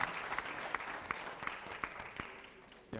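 Audience applause welcoming a bhajan singer at a YogaExpo concert in Munich, heard as a moderate wash of clapping with a few sharper individual claps standing out, fairly even throughout and ending with a louder burst.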